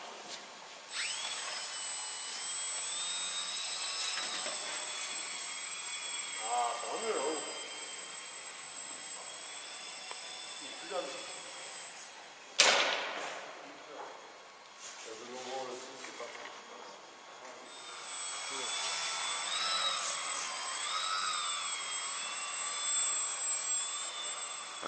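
Propeller of a small indoor model aircraft flying in a hall, a thin high whine rising and fading as it passes, with people talking nearby and a sharp knock midway.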